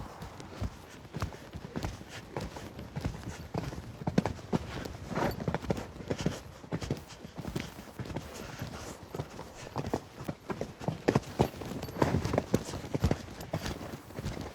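Horse hooves clip-clopping on the ground in an uneven, continuous rhythm, moderately close, with some faint background noise.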